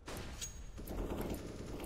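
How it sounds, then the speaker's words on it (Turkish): Rapid Counter-Strike gunfire rattles in a continuous, dense burst, faint in level with sharp high clicks over a steady low rumble, and no talk over it. "öyle seni sıkıyorum"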